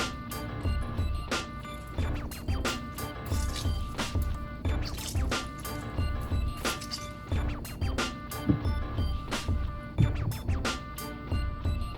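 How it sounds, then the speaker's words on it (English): Half a lemon is squeezed over shrimp dressed with olive oil, giving close, wet squishing and a rapid series of drips and small splashes spread across the whole stretch, with no talking. "I'm gonna squeeze a half of a lemon"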